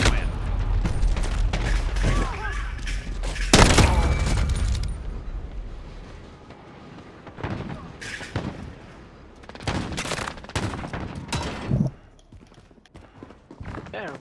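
Video game weapons fire in bursts and single loud shots, including one sharp blast near the start, with gaps between volleys and voices talking over the action.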